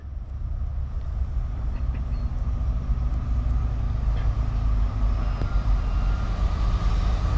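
A westbound BNSF freight train hauled by C44-9W and SD70ACe locomotives rolling past, a steady loud low rumble with wheel and rail noise throughout, no voices.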